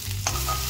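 Grated ginger dropped into hot oil with whole garam masala and cumin seeds gives a quick burst of close sizzling and the scrape of a stir, over in under a second.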